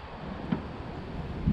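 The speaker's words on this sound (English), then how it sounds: "it's really windy here, so sorry if this video audio sucks" Strong wind buffeting a GoPro microphone at a beach at Gamble Rogers Memorial State Park, Florida, a low rumbling roar with uneven gusty bumps and occasional thumps.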